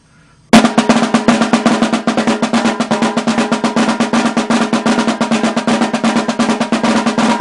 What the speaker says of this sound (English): So when you do the rolls or the flam taps put together,